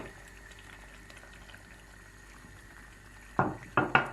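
A pot of peppers boils quietly with a steady low hiss, then a few louder bubbling bursts pop up near the end.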